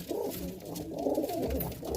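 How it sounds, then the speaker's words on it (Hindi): Pigeons coo softly in a cage in low, rounded murmurs, several birds overlapping close by in a steady, continuous burble. "ये कबूतर का केज है, घर है, और इसमें सारे कबूतर रहते हैं।"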